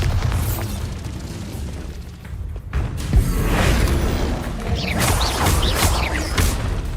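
Bombarda blasting spell exploding in the Hogwarts Legacy video game: heavy booming blasts with crashing debris and crackling bursts, loud and continuous, with a sharp hit partway through.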